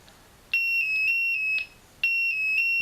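An X10 security console sounds its alarm after a door/window sensor is opened: two loud, steady, high-pitched electronic beeping bursts, the first about a second long and the second starting shortly after, close to the microphone.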